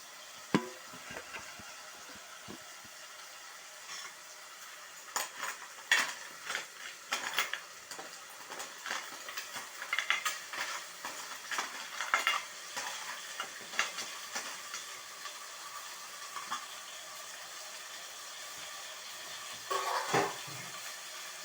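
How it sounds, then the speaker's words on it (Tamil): Half a kilo of cleaned crab is sautéed in a pan for crab soup, giving a soft sizzle under repeated scraping and clinking of a utensil against the pan, louder in bursts through the middle, with no voices. "நண்டு சேர்த்து கொஞ்ச நேரம் வதக்கினா போதும்"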